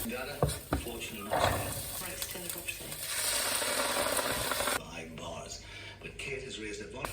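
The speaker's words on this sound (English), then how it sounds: "you can probably hear these onions frying in the background" Onions sizzle steadily in a hot pan with a bright, hissing crackle, broken by a few clattering stirs; faint talking sits underneath.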